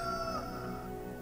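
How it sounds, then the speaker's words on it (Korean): A single rooster crow rings out loud and close, a sustained harmonic call lasting over a second with no talking over it. "바로 닭울음 소리가 들려요"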